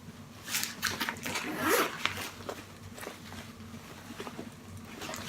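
A handbag's inside zipper is pulled open in a few quick scratchy bursts, close and fairly quiet, with faint rustling of fabric around it.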